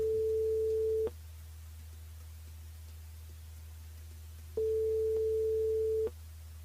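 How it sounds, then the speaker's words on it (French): A telephone call tone sounds while a caller is dialled during a French radio phone-in: two long, steady, even beeps separated by a pause of several seconds, over a low background hum. "On appelle Stéphanie sur le standard"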